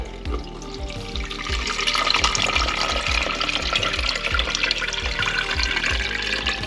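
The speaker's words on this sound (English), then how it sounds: "Just pour and strain." Cold brew coffee pouring steadily and splashing as it runs through a strainer inside an RV, continuous and close, with a faint rhythmic low thumping underneath.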